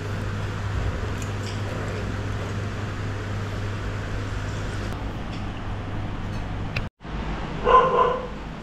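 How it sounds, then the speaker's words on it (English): Dog barking at night in Prachuap Khiri Khan, Thailand, a few muffled barks set back under a steady low hum of ambient noise, with a brief louder burst near the end. "does that dog bark all night?"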